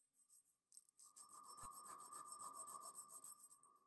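Corners of a kaleidoscope Damascus steel chef knife blade being worked with a hand file: close, steady rhythmic rasping strokes that run continuously after a couple of brief opening scrapes, with no voices.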